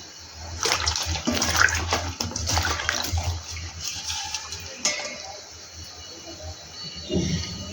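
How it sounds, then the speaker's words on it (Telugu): Water pours into a pot of soaked toor dal, a steady close splashing and gushing stream that runs for several seconds with slight surges, no voices over it. "దాన్ని బట్టి వాటర్ యాడ్ చేసుకోండి."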